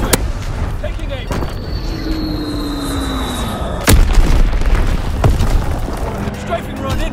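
Mortar rounds exploding on the Shipment map in Call of Duty WWII, with a sharp blast near four seconds among scattered smaller bangs over constant battlefield rumble.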